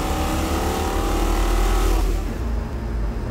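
Mondello-built 455 Oldsmobile big-block V8 running on a dyno, a loud sustained roar that holds steady, then the revs drop and the engine settles lower toward the end.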